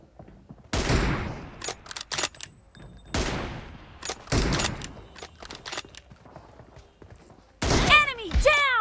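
Gunfire in the mobile shooter game PUBG Mobile during a one-on-one M24 team deathmatch, several loud sharp shots and short bursts spaced out, ending with a run of rapid ricochet-like whines.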